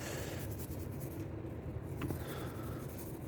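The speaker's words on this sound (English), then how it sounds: "Just give it a nice scrub to get all that grit and soot off of there that might be really caked on" Close, steady scrubbing of a brush over a handgun to loosen caked grit and soot, a continuous dense rasp with no talking.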